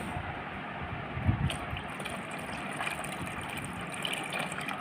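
Water poured into a cooking pot, a soft continuous gushing and trickling heard faintly at a distance, no talking.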